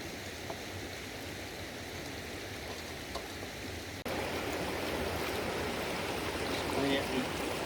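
River water rushes steadily beside a Gold Rat river sluice being cleaned out, a constant soft wash of flow that grows a little louder partway through, with a voice briefly talking in the background.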